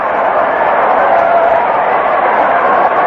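A baseball stadium crowd at a tied Orioles–Yankees game gives a steady, loud roar of cheering that holds evenly throughout.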